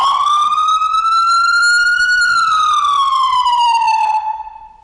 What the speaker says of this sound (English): so we'll turn on this siren